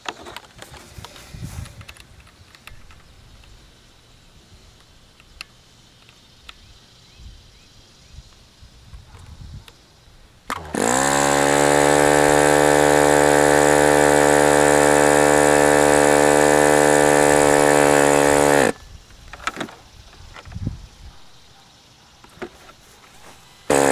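An Evolution .46 NX glow-plug model engine runs at full throttle, a loud steady high-pitched buzzing whine holding for about eight seconds, then cutting off into quiet handling noises.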